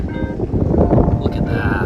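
Strong gusting wind buffeting the microphone on a gravel bar of the Yellowstone River, a loud, close, rumbling roar throughout the short clip.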